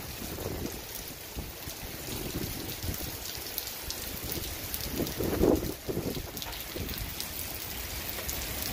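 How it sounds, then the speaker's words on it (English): Steady rain patters and hisses continuously, with a faint low rumble and no voices. "Oh, the sound of the rain."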